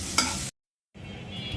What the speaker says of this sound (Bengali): বেগুনটাও ভেজে নিচ্ছি।